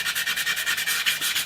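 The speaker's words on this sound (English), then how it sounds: "Now I can give it a good sanding down," Rapid, rhythmic back-and-forth strokes of fine 600-grit sandpaper rubbing over wood on a classical guitar build, about eight even scrapes in quick succession, close and alone.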